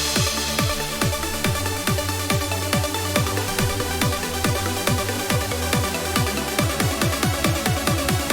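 An EDM build layers a Super Saw synth with rising swooshes, dense and loud, with repeated pulsing hits and sweeping tones climbing steadily throughout, no voices.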